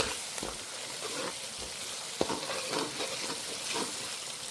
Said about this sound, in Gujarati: ટમેટા એડ કરી અને આપણે એને 10 મિનિટ સુધી બરોબર પાકવા દઈશું.